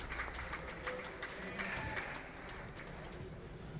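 A racquetball tournament crowd at a men's semifinal in San Francisco cheers and applauds loudly for a few seconds, a dense wash of clapping and voices that settles slightly toward the end.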